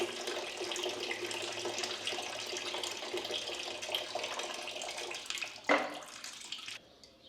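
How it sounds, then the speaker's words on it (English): Water runs steadily into a sink while hands are washed with soap in a video game, a continuous splashing stream that ends with a brief clatter and then stops. "Putting soap in a sink? Washing my hands?"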